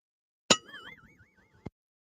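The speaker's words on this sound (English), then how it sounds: "don't forget to ring that bell" A bright bell ding rings out once and alone, with a shimmering wavering tail lasting about a second, followed by a short clunk at the end.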